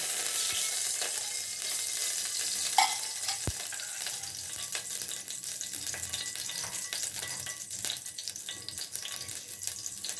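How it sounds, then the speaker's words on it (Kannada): Cooking oil sizzles and crackles in a pan during macaroni pasta preparation, a steady close hiss with scattered pops and a stirring scrape, no talking. "ಒಂದೆರಡು ಸ್ಪೂನು ಎಣ್ಣೆ ಹಾಕಿಬಿಟ್ಟು"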